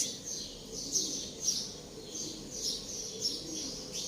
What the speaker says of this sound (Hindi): आ रही है चिड़ियों की आवाज।